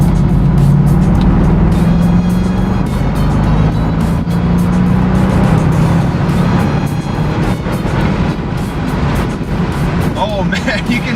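A BMW 650i convertible with a six-speed manual pulls hard under acceleration, a loud, steady engine drone rising smoothly in pitch amid road and wind noise, with a driver talking throughout.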